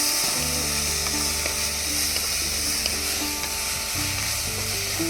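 Cumin seeds crackle and sizzle steadily in hot oil in a pan, a dense frying hiss with faint stirring scrapes running throughout, for a tamarind-leaf (chinta chiguru) roti pachadi.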